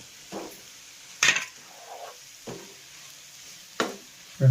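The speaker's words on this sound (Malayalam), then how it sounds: "അതിനകത്തേക്ക് നമുക്ക് ഈ ബീഫ് ഇട്ട് ഇളക്കി കൊടുക്കാം നല്ലപോലെ" Beef is stirred into fried masala paste in a pan for Kerala-style beef puffs, with soft sizzling and a few sharp spoon scrapes against the pan at irregular intervals, close up.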